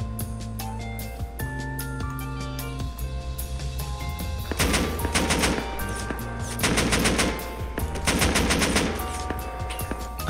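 Rapid bursts of AK rifle fire in a video game, loud and close, with several sustained automatic volleys separated by short pauses over a busy background.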